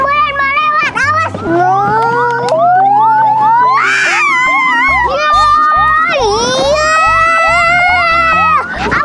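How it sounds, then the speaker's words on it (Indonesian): An ambulance siren wails in rising and falling sweeps, loud and close throughout, alongside children's voices and background music in a kids' pretend-doctor play setting. "Awas, awas, ambulan mau lewat."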